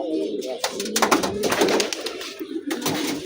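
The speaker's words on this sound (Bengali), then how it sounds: "তারপর আরো বেশি ডাকাটাই করে কবুতরগুলি।" Domestic pigeons in a loft coop, a red-eyed male cooing at a hen, make close, continuous overlapping throaty coos that swell and fall in repeated bursts.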